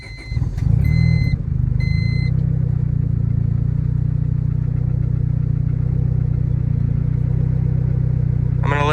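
A tuned car with a rolling antilag setup idles and warms up, a steady low engine drone after a brief rev at the start, close and loud with no talking.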